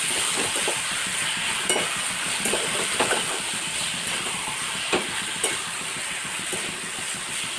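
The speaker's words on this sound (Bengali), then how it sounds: "মশলার সাথে মেথিকে ভালো করে নাড়াচাড়া করতে পারলাম" Fenugreek leaves are stirred with spices in a frying pan for a mutton liver dish: a constant close sizzle with irregular spatula scrapes and taps against the pan.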